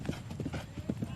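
Polo horses galloping during a match, a rapid, close run of hoof clip-clops with a snort or whinny mixed in, while a voice talks underneath.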